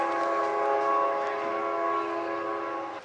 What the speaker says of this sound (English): Here comes train 61 in.